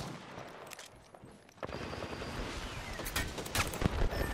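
Gunfire in an Apex Legends match, a steady volley of rapid shots starting abruptly and continuing with sharp cracks over a noisy battle backdrop.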